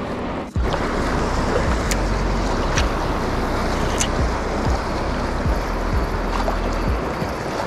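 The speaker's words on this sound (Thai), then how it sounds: "คลื่นแรงด้วย" Strong sea waves roll in on a rocky shore under a rain-clouded sky, a loud continuous wash and rumble with repeated surges and splashes, no speech.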